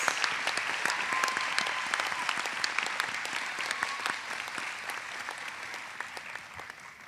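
Commencement audience at a college ceremony clapping for graduating candidates, a sustained crowd of hands with distinct nearby claps popping through, holding fairly steady before easing slightly near the close.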